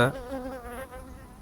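Honeybees crowd around a queen cage inside a hive, a brief close buzzing drone that wavers in pitch.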